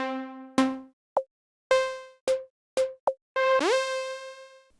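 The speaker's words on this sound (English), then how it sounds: "to top off the sample pack we got some synth shots like these" A series of short, punchy Afro house synth stabs with bright, tonal attacks, spaced apart with silences between hits, ending in one longer sustained shot.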